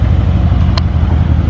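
Mercedes-AMG sports car engine, from a road trip to Germany alongside an A45 AMG, C63S and Alfa Romeo Giulia Quadrifoglio, giving a steady low rumble with a brief sharp click partway through.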